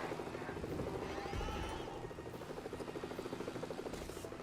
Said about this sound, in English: Jump inside the helicopter,